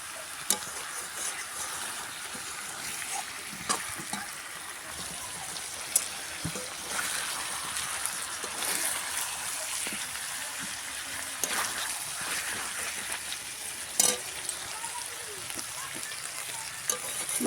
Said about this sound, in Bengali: আলু দিয়ে ভালো করে কষিয়ে নেব।